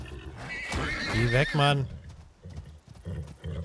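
A hostile horse in the survival video game Icarus neighs loudly with a rising, harmonic whinny, then heavy hoofbeats thud through the rest, while someone shouts over it.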